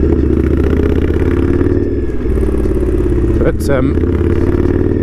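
An Indian Scout Street Hooligan motorcycle by Krazy Horse roars loudly and steadily under way, its engine note briefly dipping and clunking mid-clip as the rider upshifts with the clutch, while a voice talks over it.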